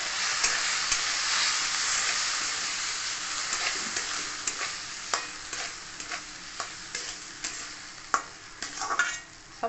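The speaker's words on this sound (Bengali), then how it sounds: "সমস্ত কিছু ভেজে নিয়ে এরপর আমি এর মধ্যে সাবুদানাগুলো দিয়ে দিচ্ছি। সাবুদানাকে আমি অল্প সময় জন্য ভেজে নেব।" Sabudana (sago pearls) frying briefly in a pan for tiranga sabudana halwa, a steady close sizzle with a spoon repeatedly scraping and stirring, sharp clicks growing more frequent toward the end.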